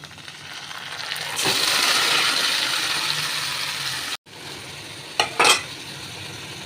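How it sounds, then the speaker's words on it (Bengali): Chicken sizzles with fried onions in a hot pan, a loud steady hiss that swells after the meat goes in, broken by a short pause and then a couple of sharp clinks of a utensil against the pan. "তো পেঁয়াজটা ভাজা হয়ে গেছে, এবার আমি এর মধ্যে চিকেনটা দিয়ে দেব।"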